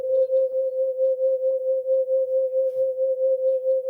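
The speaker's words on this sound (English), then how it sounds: "I've got a synth over here that allows me to play a pure sine wave." A synthesizer plays a single pure sine wave, a steady, unwavering midrange tone held loud and alone for the whole stretch.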